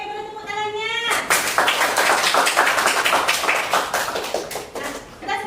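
A classroom of children claps together in lively, uneven applause that lasts several seconds, following a teacher's voice and fading into speech at the end.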